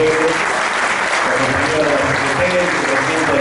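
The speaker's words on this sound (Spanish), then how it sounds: "para quien pido un fuerte aplauso" A crowd at a May Day gathering at a political Ateneo applauds steadily for introduced comrades, the clapping blending with background voices and a low hum throughout.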